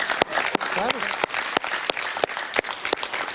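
A studio audience on a talk show claps for a boy, with sharp individual hand claps standing out against a rough background and a brief voice rising in the middle.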